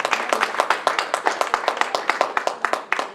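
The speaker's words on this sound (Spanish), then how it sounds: "Vamos a darles aplauso al Señor." Church congregation clapping in praise to the Lord, a fast, even rhythm of sharp claps close by, carrying on steadily without pause.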